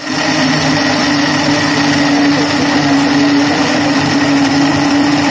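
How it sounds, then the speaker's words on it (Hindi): Blender grinding mango, ice, sugar and water into juice, a loud, continuous motor whir with a steady high pitch heard up close. "अब इसे हम ग्राइंड करेंगे अच्छी तरह से।"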